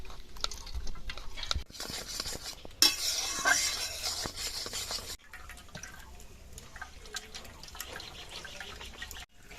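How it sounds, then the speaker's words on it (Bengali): A spoon scrapes and stirs blended watermelon pulp in a metal sieve, with soft clinks, wet sloshing and dripping juice over several seconds. "একটা চামচ দিয়ে এভাবে নেড়ে নেড়ে তরমুজগুলো ছেঁকে নেব"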